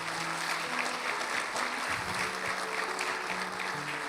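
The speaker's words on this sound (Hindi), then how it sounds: "जोरदार तालियां खुदावंद के लिए।" A church congregation claps loudly in praise during a sermon. The applause is dense and continuous, with a steady hum underneath, and lasts a few seconds with no talking.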